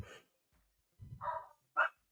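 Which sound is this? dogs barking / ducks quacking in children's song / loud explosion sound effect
dogs barking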